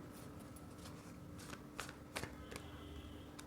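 Tarot cards shuffled for a pick-a-pile reading, a quiet papery riffling and sliding with a few sharper snaps toward the end, close and soft with no talking.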